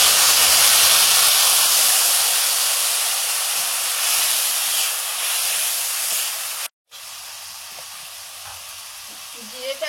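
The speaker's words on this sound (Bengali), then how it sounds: "লঙ্কা, হলুদ জলে গুলে নিয়েছি। এবার এটা তেলে দিয়ে দেবো।" Chili and turmeric paste mixed with water sizzles and spits in hot oil, a loud steady frying hiss that runs close and continuous, broken by one sudden brief gap before carrying on.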